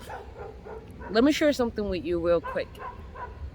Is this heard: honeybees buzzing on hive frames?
no